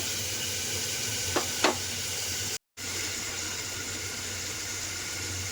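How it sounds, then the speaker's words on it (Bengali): Paneer pieces and spices frying in a pan for veg pulao give a steady, close sizzling hiss, broken by two brief sharp crackles and a short gap of silence. "এখন এটাকে আমি ভালো করে ভেজে নিব।"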